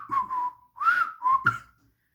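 Trevor the traction engine lets out a run of loud, close whistle blasts: two sustained tones, a pause, then a rising shriek and two more short bursts, with no talking.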